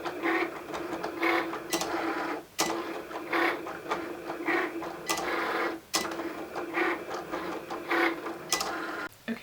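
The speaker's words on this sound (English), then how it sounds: "Gotta bust out my Cricut." A Cricut cutting machine runs in a steady whirring, clicking drone, broken every few seconds by short pauses as the carriage stops and starts again.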